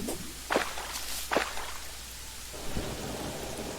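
Rain falling with rolling thunder in the video game Terraria: a constant soft rain wash broken by a few brief louder crackles and a low rumble, no voices.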